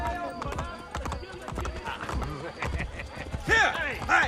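Horse hooves clip-clop in Assassin's Creed Brotherhood, a steady rhythmic trot under game speech and ambience, with a whinny near the end.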